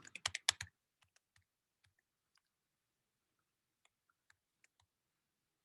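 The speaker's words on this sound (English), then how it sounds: "So when I type it into a calculator" Numbers being keyed into a calculator, a quick burst of clicky presses followed by a few sparse, faint taps in an otherwise quiet room.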